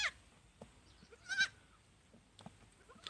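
A goat bleats in short, fairly faint calls: one at the very start, a louder, fuller bleat in the middle and a weaker one near the end, with quiet background between them.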